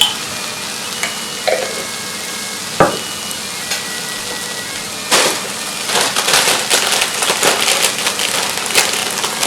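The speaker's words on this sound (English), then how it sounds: "A little bit of olive oil in the pan. Put a little bit of garlic in." Garlic sizzles in olive oil in a pan, starting with a few scattered crackles and clicks, then breaking into a loud, busy sizzle and pop about halfway through that keeps going to the end.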